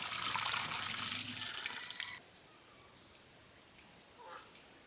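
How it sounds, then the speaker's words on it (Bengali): Beef tripe being washed under running water, a close splashing gush for about two seconds that stops abruptly, followed by a few faint drips and small handling sounds. "বটটা ভালোভাবে ধুয়ে লাইতেছি"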